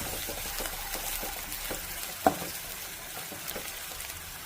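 Prawn roast masala with Kashmiri chili powder being mixed in a pan, a soft continuous frying sizzle with faint stirring scrapes and one brief sharp knock midway.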